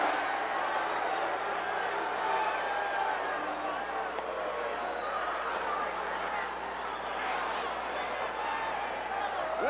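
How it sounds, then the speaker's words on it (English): A capacity crowd at a 1984 WWF wrestling show roars steadily throughout, a dense, sustained wash of cheering voices with no pauses. "Listen to the roar of this capacity crowd."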